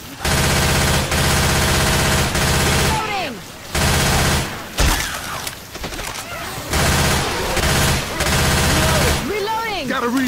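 Dense, loud automatic gunfire from survivors shooting zombies in Left 4 Dead 2, sustained bursts with short gaps, while players shout over the shooting.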